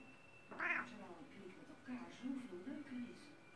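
A domestic cat gives one clear, close meow, followed by softer murmuring vocal sounds that could be further meows or a person quietly mimicking them.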